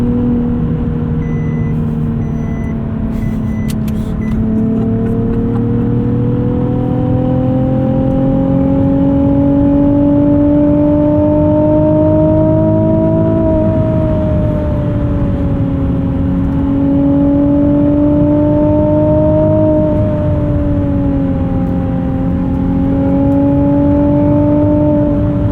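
A 2020 Nissan 370Z NISMO's engine drones loudly from inside the car, holding a steady tone that rises and swells as it accelerates, with no talking over it.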